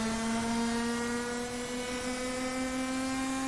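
A kart engine in the racing sim rFactor 2 KartSim holds a steady high drone with smooth harmonics, like a small motor at sustained throttle. It plays alone and loud for the whole stretch.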